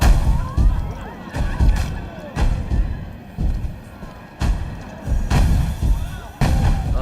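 Pirate ship cannons firing in Planet Coaster 2, a string of heavy booming blasts arriving about every second, loud and close, each one a deep thud followed by a brief rumbling decay.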